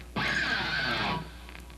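Electric guitar pick slide done carelessly, one harsh scraping rasp about a second long that starts abruptly and cuts off, then low amp hum.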